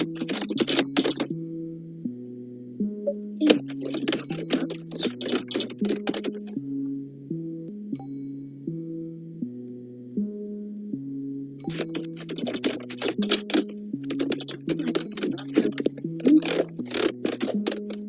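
Computer keyboard typing in rapid bursts of clacking keys, pausing and resuming, over a looping melodic game soundtrack.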